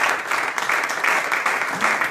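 A church congregation claps during a Spanish-language worship gathering, with a steady pattering applause that swells and dips in soft pulses over a couple of seconds.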